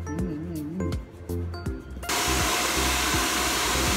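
A salon hair dryer blows on freshly washed wet hair, starting with clinks and rustling before the motor switches to a loud, steady whoosh that fills the rest of the moment.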